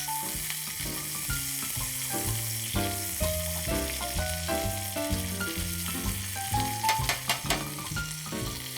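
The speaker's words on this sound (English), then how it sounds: "The butter, as it cooks into the oil, allows us to bathe the steak with all this beautiful glossiness" A reverse-seared steak sizzles in a pan of butter and oil while being basted, a continuous bright frying hiss with soft spoon scrapes, partly under steady background music.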